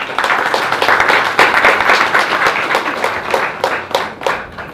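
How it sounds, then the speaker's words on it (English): A university film-screening audience applauds the filmmaker, brisk sustained clapping filling the room and tapering into scattered claps near the end. "So if we can give him a round of applause."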